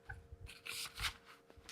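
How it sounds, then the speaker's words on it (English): A stack of cards shuffled by hand indoors, two quick riffling bursts of crisp flutter following some light handling taps, close and fairly quiet. "Yeah, because you're shuffling cards."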